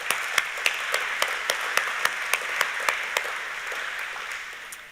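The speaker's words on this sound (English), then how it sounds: "Big round of applause." Steady audience applause rises from a spray forum conference crowd, sustained and fairly even, with a few distinct nearby claps ticking in a regular rhythm before the sound slowly fades.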